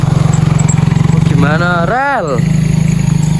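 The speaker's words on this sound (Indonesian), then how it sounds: "ada motor lewat Dli" A motorcycle engine putters steadily and close by at night, its rhythmic exhaust pulsing throughout while a voice briefly speaks over it.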